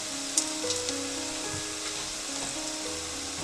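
Steamed fenugreek dumplings being mixed with dry coconut and roasted peanut powder in a pan, a soft sizzle with a few light scraping and stirring knocks, a faint steady tone running underneath.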